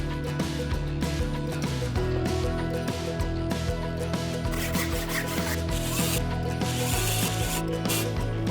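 Power driver screwing a wooden epoxy mold wall to its base while clamps hold it, a continuous whirring drive with repeated ratcheting clicks and short bursts, close and steady throughout.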